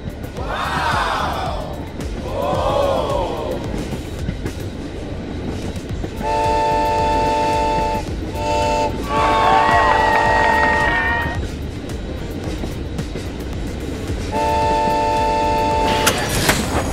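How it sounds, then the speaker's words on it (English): A LEGO high-speed cog railway train climbs a slope, with steady mechanical rolling and motor whir alongside repeated sustained horn-like tones and a whistle-like sweep, heard close with no talking. "How well can high-speed cog railway handle a slope?"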